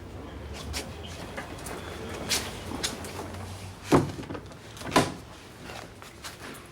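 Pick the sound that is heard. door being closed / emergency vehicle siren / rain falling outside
door being closed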